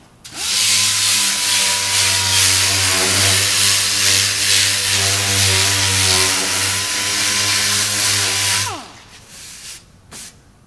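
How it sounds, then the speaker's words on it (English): A dual-action sander with 36-grit paper grinding on a car body panel, a loud steady motor whine with coarse abrasive hiss, running continuously for several seconds before spinning down. "So I'm going to use 36 on a DA. I'm going to sand the surface down."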